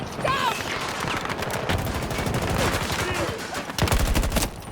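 Rapid gunfire crackles through a Battlefield 2042 firefight, dense bursts of shots repeating throughout with a louder volley near the end and some speech mixed in.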